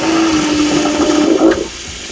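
Water gushing from a faucet in a Winnebago Revel 4x4 RV during de-winterizing, a loud, steady rush with a humming tone underneath that shifts and softens near the end.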